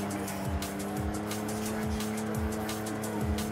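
A Jaguar E-Type drifts in Forza Horizon 5, its engine droning steadily while repeated tire squeals sweep through each slide at a regular rhythm, loud and close with no talking.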